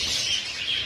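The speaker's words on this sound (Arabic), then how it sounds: "طيور حب اوروبيات امهات عيون الحمر" European red-eyed lovebirds at a Baghdad animal and bird market, a dense, continuous twittering of high chirps from many birds close by, with no voices.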